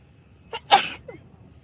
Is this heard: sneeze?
yes